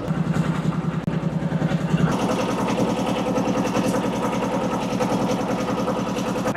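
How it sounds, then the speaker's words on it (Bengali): A trawler boat's engine chugging steadily while crossing the Meghna river, a loud, close, rhythmic mid-pitched throb that picks up slightly after two seconds and runs on without pause. "ও নীলপরি, তুমি শেষ পর্যন্ত নদী পথে ট্রলারে পার হচ্ছ"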